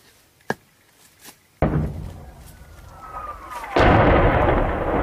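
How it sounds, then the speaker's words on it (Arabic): Artillery shelling strikes a village in Idlib, Syria, with a sharp blast and distant thuds before a heavy rumbling roar, then a second loud boom near the end. "قصف على قرية البشرية من جسر الشهور."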